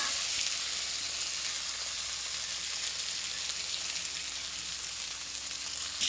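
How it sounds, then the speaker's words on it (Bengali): Ginger, cumin, chili powder and a little turmeric frying in hot oil, a loud, close, continuous sizzle with no talking. "এখন এটা ভালোভাবে তেলে ভেজে নেব"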